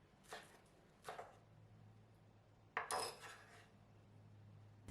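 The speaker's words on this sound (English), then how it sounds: "Chop them into small pieces." Spring onions chopped into small pieces on a board for garnishing a Malaysian noodle soup: three separate bursts of knife strokes a second or so apart, fairly faint against a low steady kitchen hum.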